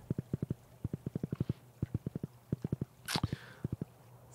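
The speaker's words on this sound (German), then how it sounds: "Ferdinand galoppiert in den Sonnenuntergang." Horse galloping in the video game Stardew Valley: rapid, regular clip-clop hoofbeats in quick bursts, loud and close, with a brief whooshing swell partway through.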